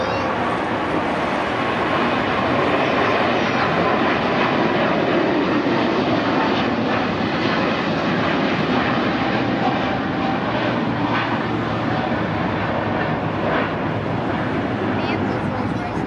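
A heavy jet airliner on flight BR005 passes at LAX with a loud, continuous engine roar that holds steady throughout. Voices can be heard faintly underneath.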